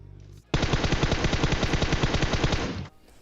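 A sustained burst of rapid automatic gunfire in PUBG Mobile, loud and close, rattling continuously for over two seconds before cutting off abruptly.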